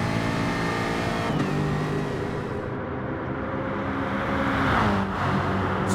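Race cars on a circuit during the opening lap of a Speedweek E-Series event, a steady loud engine drone with passing pitch shifts, continuous throughout with no talk over it.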